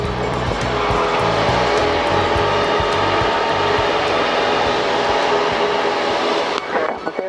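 A light aircraft's engine roars steadily at high power on the runway, loud and close with constant droning, easing off briefly near the end.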